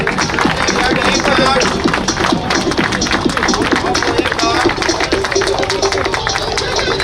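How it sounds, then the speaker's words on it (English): A crowd at a school inter-batch football tournament award ceremony claps in a steady, dense round of applause, with crowd babble mixed in throughout. "A huge round of applause."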